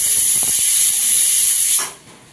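A pressure cooker whistles in a steady, loud, high jet of escaping steam while black peas cook for a spicy Maharashtrian usal, then cuts off sharply near the end, leaving a faint hiss.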